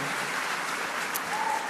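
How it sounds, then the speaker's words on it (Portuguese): Church congregation applauding in praise during a service, a steady wash of clapping with no distinct individual claps, moderately loud and continuous throughout. "aplaudindo a Jesus, porque Ele é bom"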